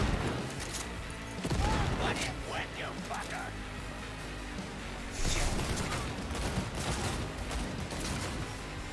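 Bursts of gunfire ring out in the video game Cyberpunk 2077, several loud volleys clustered near the start and again in the second half, with a person speaking in between.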